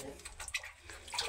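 Water pours into a hole in a dug pit, a brief splashing, gurgling flow heard close up with no voices.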